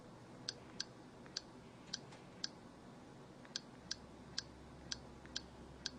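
Haptic feedback from typing on a phone's virtual keyboard: a dozen sharp, faint clicks at an irregular typing pace, one per key press, over a quiet hiss.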